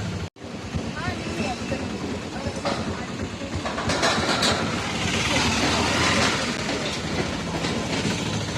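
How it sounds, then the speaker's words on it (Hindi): A passenger train pulls into a station bound for Dwarka, leaving Somnath, its steady rumble and clickety-clack of wagons growing louder and continuous throughout, with a sharp brief dropout near the start. "ये हमारी ट्रेन आ गई है। सो ये हमारी ट्रेन है द्वारका जाने वाली।"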